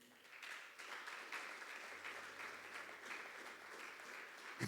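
A church congregation claps for the Lord during a sermon, a steady wash of fairly faint, moderately distant applause that holds evenly and ends with a brief thump.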